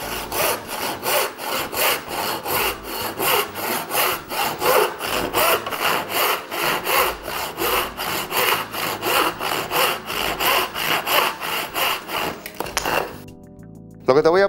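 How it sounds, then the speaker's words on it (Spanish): A hand saw cuts through wood in quick, regular back-and-forth strokes, loud and close, for many rasping passes before the piece comes free and the sawing stops. "evitar que la pieza que estamos cortando tronce y se rompa antes de que el serrucho haya terminado de cortarla"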